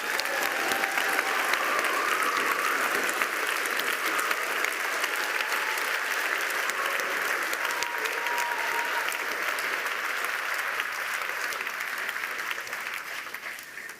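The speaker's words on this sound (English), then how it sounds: "Let's give him a huge round of applause." An audience applauds a retiring staff member at the YFS 2025 main venue, a dense, steady round of clapping that carries on loudly for the full stretch and only starts to thin at the very end.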